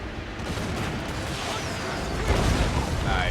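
A heavy Hellcannon artillery shot in Total War Warhammer, a 3v3 battle against Wood Elves and Empire, makes a dense rumbling boom that swells slightly toward the end amid continuous battlefield noise.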